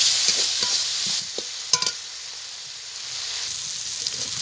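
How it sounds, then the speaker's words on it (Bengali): Ground cumin and coriander powder frying in a pan, a steady close sizzle with a few sharp scraping stirs partway through, then settling back to an even hiss. "সব মশলাটা আমি খুব ভালো করে কষিয়ে নেব"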